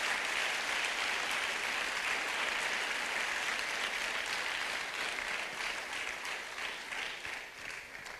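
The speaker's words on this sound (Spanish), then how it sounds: "Demos una ofrenda de palmas al Señor." A church congregation gives sustained applause during a sermon, a steady wash of many hands clapping at moderate level that tapers slightly toward the end, with no speech over it.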